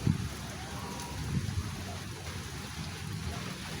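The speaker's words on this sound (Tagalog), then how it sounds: "Malakas na yung ulan mga kabiday." Heavy rain pours onto a corrugated metal house roof, a steady, fairly faint hiss with soft low thumps throughout.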